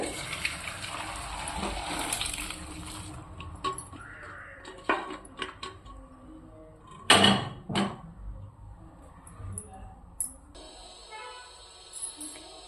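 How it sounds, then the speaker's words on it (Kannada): Water gushes and splashes as boiled chana dal is strained for holige, with a sustained pouring stretch early on, then scattered splashes and one louder burst midway; no one speaks. "ಬೇಳೆ ನೀರು ಸೋಸ್ಕೊಳಕ್ಕೆ ಸ್ಟಾರ್ಟ್ ಮಾಡೋಣ ಈಗ"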